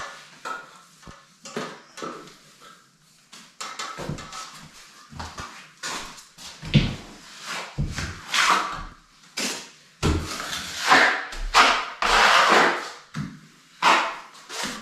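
A plastering trowel spreads thick plaster across a wall in uneven scraping strokes, with short bursts of scraping separated by pauses and light knocks of tools, close and fairly loud.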